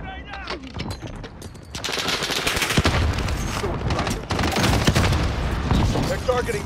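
Sustained automatic gunfire and explosions in the video game Call of Duty Warzone form a dense, loud, continuous barrage throughout, with voices mixed in under the shooting.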